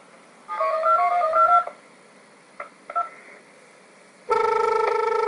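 A telephone's keypad gives a short run of dialing tones, then a few brief beeps, before a loud, steady ringing tone starts near the end.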